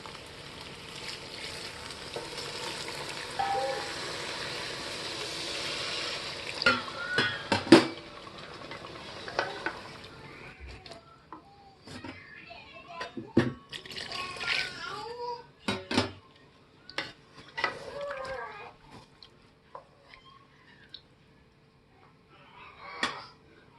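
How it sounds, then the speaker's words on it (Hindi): Water poured into a pan of fried vegetables for veg pulao, giving a broad splashing rush for the first several seconds, then scattered clinks of a utensil against the pan and faint sizzling, fairly close. "अब इसमें हम डालेंगे पानी।"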